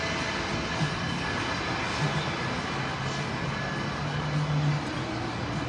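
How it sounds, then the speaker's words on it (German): The Las Vegas monorail runs overhead, a loud, steady mechanical rumble and whine that stays even throughout with no clear rise or fade. "Hier oben haben wir wieder die Monorail."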